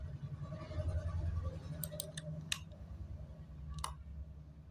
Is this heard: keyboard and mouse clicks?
yes